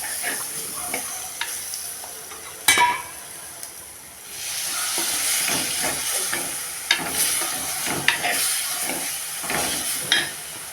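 Tomato frying in a pan for Sri Lankan dried fish curry, a steady sizzle with hiss and scraping stirs and occasional utensil taps against the pan, close and continuous.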